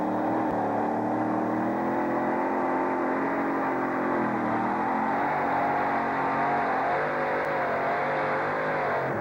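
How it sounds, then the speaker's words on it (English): The Ford pulling truck Magnum Jr. roars through a full pull at Anaheim, its engine a loud, sustained, high-revving drone holding steady pitch for the whole run with no talk over it. "It is a 5th full pull at Anaheim, this time for the Ford known as Magnum Jr."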